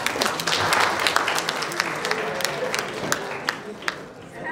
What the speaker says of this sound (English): Give a big clap.